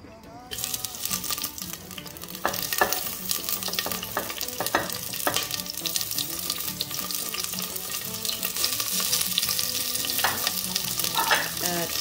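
Onions sizzle and fry in olive oil in a pan for a Sudanese eggplant salad, with a continuous crackling hiss and repeated stirring scrapes throughout, close and fairly loud.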